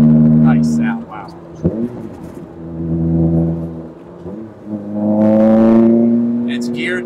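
K-swapped 1982 Lancia Beta Zagato Stradale driving with the roof off, its engine droning steadily and then rising in pitch as it accelerates, heard from inside the car with talking over it.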